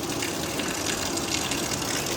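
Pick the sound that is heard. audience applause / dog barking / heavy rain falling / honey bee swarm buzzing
heavy rain falling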